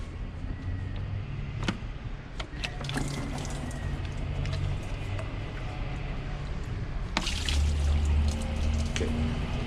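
Coolant drains from a removed upper coolant hose on a Dodge Dakota during power steering pump work, a steady pouring trickle with occasional splashes and clinks, close and continuous throughout.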